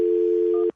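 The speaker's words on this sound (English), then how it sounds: "I'm going to dial the phone number, see if we can get her on the phone" A steady telephone dial tone hums alone for under a second, then cuts off abruptly.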